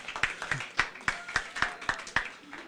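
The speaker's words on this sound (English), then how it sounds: "Applause, please." Applause at a conference on an inclusive, sustainable Europe: roughly ten evenly spaced claps in a steady, moderately quiet rhythm, sounding like a small group rather than a full crowd.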